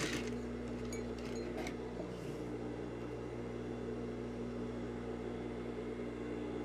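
A sewing machine runs a simple straight stitch to close the seam of a puffed sleeve at the cuff. It gives a steady, continuous motor hum with a few light mechanical ticks near the start.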